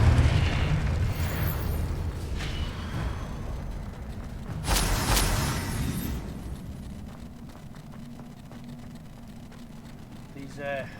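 A Confringo spell explosion in Hogwarts Legacy lands as a loud booming burst, followed by a rumbling decay and smaller pops, while a voice talks over the game sounds.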